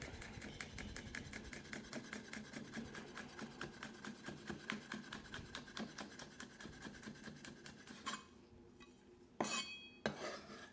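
A knife finely chops ginger and chili on a board for salt and Sichuan pepper prawns, a quick, even run of soft close taps that breaks off near the end into a few sharper knocks.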